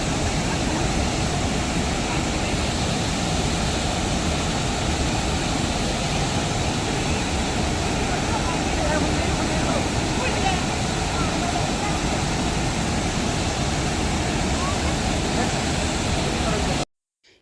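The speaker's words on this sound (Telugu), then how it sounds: "ఫైనల్లీ మేము వాటర్ ఫాల్స్కి రీచ్ అయిపోయామండి." Abbi Falls waterfall in Coorg, a loud steady roar of falling water that fills the whole scene without a break, cutting off abruptly at the end.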